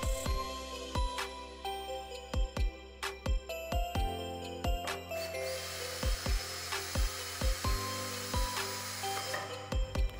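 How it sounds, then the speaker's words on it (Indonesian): Sharp repeated clicks and knocks punctuate a whirring NRT PRO DC-330 cordless drill as it bores into 6 mm plywood, with a rising buzzy grind midway through. "mengetes mata bor kayu bawaannya, apakah sanggup menembus triplek dengan ketebalan 6 mili penuh ini"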